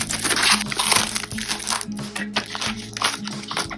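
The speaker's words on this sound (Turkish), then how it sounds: "Bantları açması uzun sürecek. Hemen başlayayım." Continuous crinkling and tearing of tape and cardboard up close, with a low steady hum in the background.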